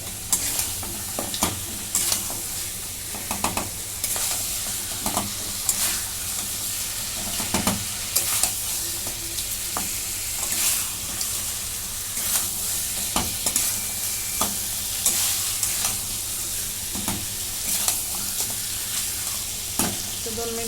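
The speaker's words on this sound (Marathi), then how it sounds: "असं थोडंसं मीठ टाकून घेते आता परतून घेते" Mutton sizzles steadily as it is stir-fried with salt in a hot pan. A constant loud frying hiss runs underneath, with frequent scraping and clattering stirs spread throughout.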